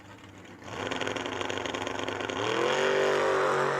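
A 1979 Chevrolet Camaro drag car at a drag race launches from the line, its engine rising from a low rumble to a loud, sustained roar with climbing pitch.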